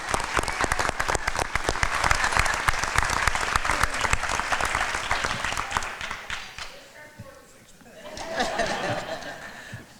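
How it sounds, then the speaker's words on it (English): Loud applause from a crowd at a police ceremony, brisk dense clapping with a few chuckles, fading after several seconds into quieter murmuring and talk. "Let's give her another round of applause for that."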